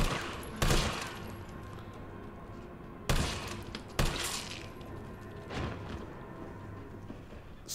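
Gunfire in the video game Resident Evil 3, with several heavy booming shots spread over a loud rumbling, reverberant background.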